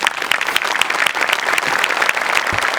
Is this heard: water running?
no